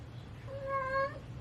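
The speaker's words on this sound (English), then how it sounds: "Please excuse my cat. She is in heat and she is relentless." A single drawn-out meow from a female cat in heat, rising and wavering, fairly clear over a quiet room background.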